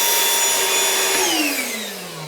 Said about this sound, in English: now this is Ryobi's vacuum